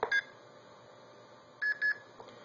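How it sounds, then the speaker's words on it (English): A short electronic beep from an Arduino-based blue box, then after a pause a quick pair of clear, high beeps as it switches mode, close and distinct against near silence. "Now if I press and hold A again, you'll hear two beeps"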